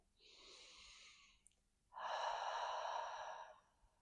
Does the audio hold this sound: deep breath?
yes